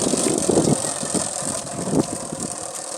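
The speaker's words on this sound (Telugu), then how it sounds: "బండి స్టార్ట్ చేయాలి" A Bullet motorbike engine idles close by with a low, steady thumping rumble and some light rattling, running the whole time with no talk over it.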